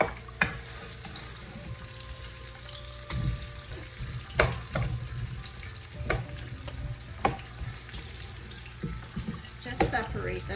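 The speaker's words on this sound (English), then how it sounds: "What I'll do, I'll add in my onions to fry" Onions and a cinnamon stick fry in hot oil for a duck curry, a quiet steady sizzle broken by scattered clicks and scrapes as the pieces are stirred and separated in the pan.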